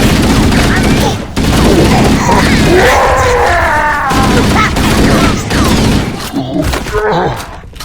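Dense, sustained gunfire in Halo: Combat Evolved, with rapid automatic bursts and thudding impacts filling the scene as voices shout over the battle throughout.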